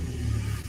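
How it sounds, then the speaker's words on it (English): Car engine in an enclosed space after a rally, revving with a steady low mid-pitched roar that swells slightly, close and continuous with no talking. "Cars make lots of noise in here when they start up."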